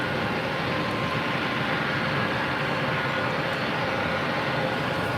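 Jet engines of a 26-year-old Delta Boeing 767-300ER at LAX, second in line for takeoff, give a steady broad roar with no rise or fall, distant and continuous without talk.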